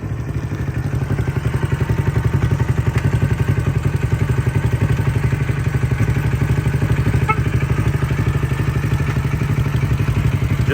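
A Honda CB450 motorcycle engine idles steadily close by, a rapid even thumping exhaust pulse running unbroken throughout with no talking.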